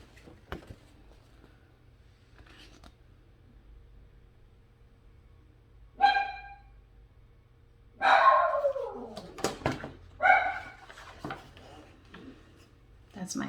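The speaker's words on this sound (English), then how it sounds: "That's my puppy barking." A puppy barks in a few sharp, bright yips, including one drawn-out yelping bark, heard close by with short pauses between them and quiet stretches before.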